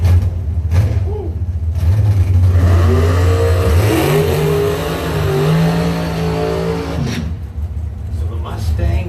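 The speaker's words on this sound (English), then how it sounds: "Let's bring up another pair of side-by-side dragsters" Side-by-side drag-racing doorslammers, a Viper and a Mustang, launch and rev hard at a strip, loud roaring engines climbing in pitch over several seconds with an announcer talking over them.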